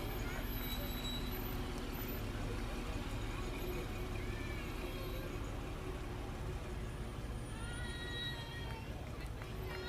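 A Shortsville Manchester Fire Department vehicle rolls past in a Fourth of July parade, a steady loud engine rumble with traffic-like noise filling the whole stretch, with faint high tones and brief chirps above.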